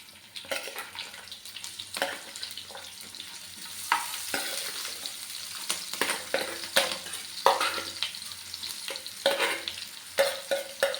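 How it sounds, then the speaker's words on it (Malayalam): Chopped onion and green chilies go into a hot pan just after mustard seeds pop, with close, loud sizzling and repeated scraping stirs of a spatula against the pan, no voices present. "കടുക് പൊട്ടിക്കഴിഞ്ഞാൽ ഉടനെ നമ്മൾ സവാള അരിഞ്ഞു വെച്ചിരിക്കുന്ന സവാളയും പച്ചമുളകും"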